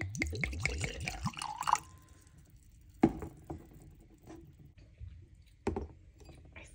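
Wine poured into a glass, a gurgling run of glugs with rising pitch for under two seconds, followed by quiet clinks and a couple of faint taps.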